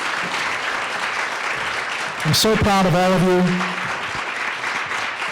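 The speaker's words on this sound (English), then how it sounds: "Can we get one more round of applause for all of our wonderful student entrepreneurs?" A demo day audience applauds student entrepreneurs with continuous clapping that swells in the middle, while a voice speaks briefly over it.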